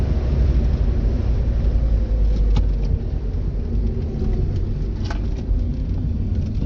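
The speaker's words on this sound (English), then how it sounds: "Rumble strips." Heard from inside a 1987 Shelby CSX, rumble strips under the tyres set off a loud, continuous low drumming that rolls on beneath the steady road and engine noise.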